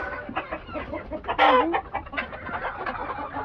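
A white rooster clucking with a short rising call in the middle, fairly close, amid farmyard background noise.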